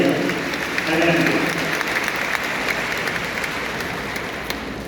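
An audience claps steadily for a speaker being welcomed to the podium at a Catholic education gathering, a full, even wash of applause with faint voices beneath that slowly eases off.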